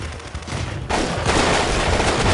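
Gunfire in the shooter game Delta Force: Black Hawk Down, with quieter rapid shots giving way to a loud, sustained fusillade of overlapping bursts that grows denser and louder toward the end.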